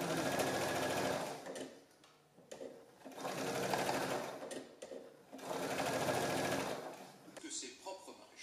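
A sewing machine stitches the hem of a vintage Butterick dress in three sustained runs of rapid, even whirring, broken by short pauses with light handling noises, while a voice speaks quietly in the background.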